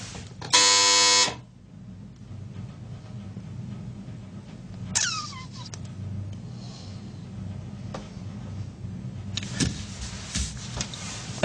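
An electric shock generator buzzer in a Milgram obedience experiment sounds once as a loud, steady harmonic buzz for about a second, followed by faint room noise and a few soft clicks.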